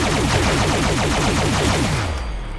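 A Quad Automatic Alien Disintegrator energy weapon in Fallout 76 fires a rapid, continuous burst of rippling, warbling zaps that descend in pitch and fade as the firing stops.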